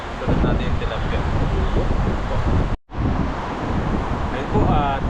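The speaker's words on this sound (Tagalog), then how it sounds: "Grabe po yung hangin." Strong wind gusts roar and buffet the microphone outdoors by the water while tilapia fries in oil, a loud steady rush broken by one brief dropout, with a voice faintly present underneath.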